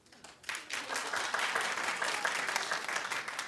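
An audience begins clapping after a brief quiet moment, building quickly into sustained, moderately loud applause that continues evenly to the end.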